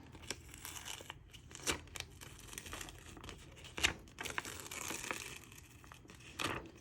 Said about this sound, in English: So we're just gonna again carefully peel this apart from one another.